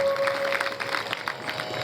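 An audience at a Shiv Mahapuran religious discourse gathering breaks into brief, scattered clapping that rises and thins out over a couple of seconds.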